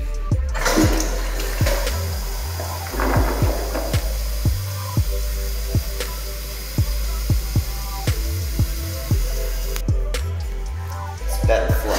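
A toilet flushes in a McDonald's men's restroom with a loud, steady rushing of water lasting several seconds, close by, alongside sharp clicks and mechanical thumps in the echoing room.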